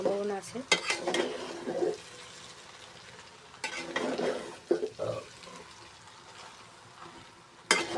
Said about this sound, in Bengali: নুডলসটা ছেড়ে দিয়েছি এখন আমি নিচ থেকে নাড়াচাড়া করবো